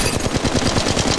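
Flatline rifle in Apex Legends Mobile firing full-auto, a steady rapid rattle of shots filling the whole short burst, loud and close with no talk over it.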